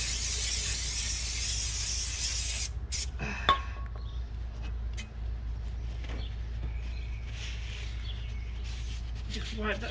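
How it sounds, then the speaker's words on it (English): Brake cleaner hisses from an aerosol can onto the brakes of a 2011 BMW X1, a short bright spray at first, followed by quieter handling noises and a faint clink. "Give this all a quick dash with the brake cleaner."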